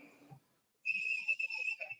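A whistle blown at an outdoor anti-nuclear rally in Sardinia, a sharp shrill blast held for over a second after brief murmuring, fairly near and loud.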